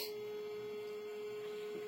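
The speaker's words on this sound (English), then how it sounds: "That pump will settle down once we start getting some of that air cleared out of the system" A water coolant pump in the cooling system of a Monport MEGA laser cutter hums steadily and quietly at close range, a faint continuous tone with soft circulating water noise and no talk.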